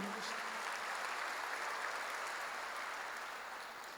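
Church congregation applauding during a worship service, a steady, moderately distant wash of clapping that holds evenly for several seconds before a sharp sound at the very end.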